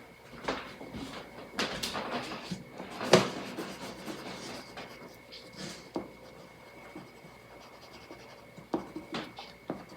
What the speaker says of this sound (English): I want to get some pencil marks in here because I know they're going to shine through or show through